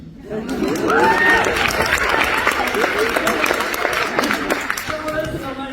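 An audience applauds at a kick-off event in Aix-en-Provence, with dense clapping and scattered cheers filling the room throughout, while voices murmur and chatter beneath it.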